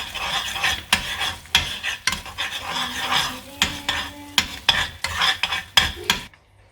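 A spoon stirring garlic through a pizza topping mixture in a bowl, rhythmic scraping and clinking strokes at close range, with a soft sizzle-like rasp and no talking.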